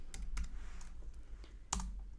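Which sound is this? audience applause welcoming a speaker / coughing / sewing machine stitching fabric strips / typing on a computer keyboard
typing on a computer keyboard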